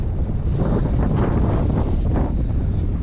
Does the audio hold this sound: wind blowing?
yes